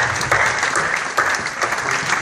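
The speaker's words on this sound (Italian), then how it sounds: "E proporrei un applauso al Fondo Ambiente Italiano" An audience claps in a short burst at an award ceremony, dense and steady applause from a crowd close by, with no voices standing out.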